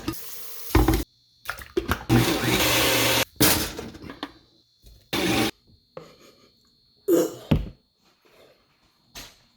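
Chicken breast whirred in a blender, heard as several loud bursts of blending separated by pauses, with scraping and handling noises in between.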